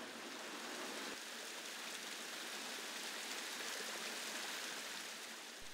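A rushing mountain brook, the Ciñera stream tumbling between limestone walls, gives a steady, dense roar of water that stays constant throughout, with no voices over it.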